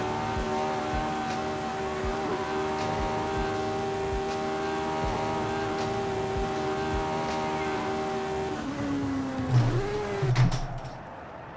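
A 1960s Formula One race car in a racing video game pulls hard out of a long sweeping right-hander, its engine holding a loud steady high whine before the pitch drops and swoops near the end.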